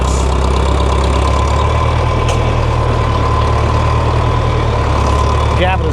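Tractor pulling a plastic mulch laying machine in a field, a loud steady low engine drone running close by throughout with a faint higher squeal near the end.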